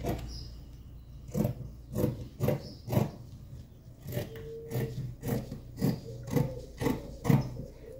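Scissors snip through fabric being cut for a child's dress. About a dozen crisp cuts come close up, in irregular, fairly steady strokes, with quiet pauses and faint handling noise between them.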